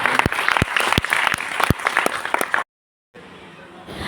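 Applause from an audience at a first-day class session, with sharp individual claps standing out in the dense patter, then a sudden break to silence followed by quieter room noise.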